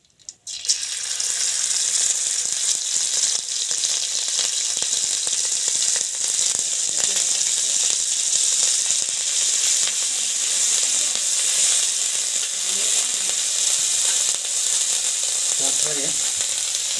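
Spices frying in a pan in a village kitchen hiss with a loud, steady sizzle that starts abruptly and continues throughout, with faint crackles and occasional clinks.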